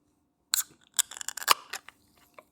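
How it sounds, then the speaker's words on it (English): A beer can from Amarok Brewing is cracked open with a sharp snap and hiss, followed by a few quick clicks and crackles, close and alone. "So let me go ahead and we'll crack this sucker open, eh?"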